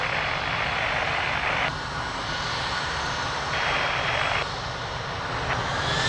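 Loud, steady roar of an airplane engine during takeoff on a runway at Lisbon Airport, a continuous broad rumble that swells and dips slightly in stretches, with no voices over it.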